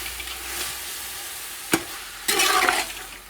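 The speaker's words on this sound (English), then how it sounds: "Now fry that for at least 2 to 3 minutes." Meat fries with yogurt in a pot for yakhni pulao, a soft steady sizzle broken by a brief clatter and a louder burst of stirring, no voices.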